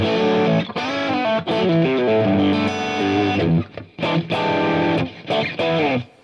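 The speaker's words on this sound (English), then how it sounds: "it goes to a plexi, a little bit of spring reverb." Electric guitar played through a Plexi amp preset with a touch of spring reverb on a Fractal AX8 rig, ringing distorted chords and sustained notes with brief gaps, loud and upfront with no talk.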